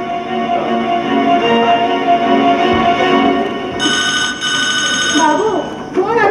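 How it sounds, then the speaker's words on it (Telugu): A telephone rings during a Telugu stage play: a loud, bright electronic ring bursts in for about a second and a half near the end, following sustained tonal background sound. "బాబు ఫోన్ అడుగుతా ఉంది."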